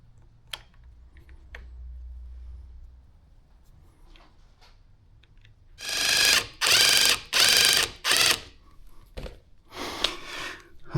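A screwdriver drives Torx screws while a Polaris Sportsman 2500 lb winch is installed, giving several loud, close ratcheting bursts in quick succession after a quiet stretch of small handling clicks.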